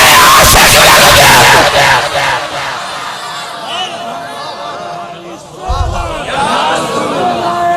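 A crowd at a religious bayan chants slogans in loud, energetic unison that opens strongly, then recedes under a man's continuing speech, with a brief rise again near the end.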